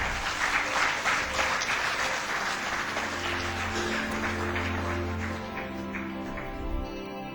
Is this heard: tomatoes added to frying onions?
no